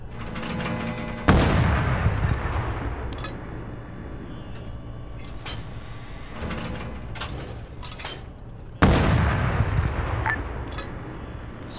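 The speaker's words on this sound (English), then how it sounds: "Yeah, it's shooting rockets at us." Two heavy rocket launches in a military video game, each a sudden loud blast with a long rumbling tail, set against constant battle noise and scattered distant shots.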